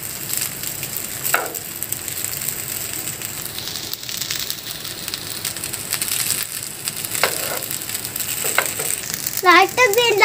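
Chicken fried rice is stirred and tossed in a hot pan, giving a continuous sizzle with scraping and crunchy shuffling of the grains, close and steady, with faint background voices.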